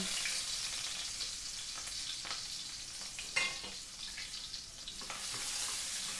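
Steady close sizzling of onion and garlic frying in a hot pan, with occasional stirring clatter and a brief sharper hiss partway through.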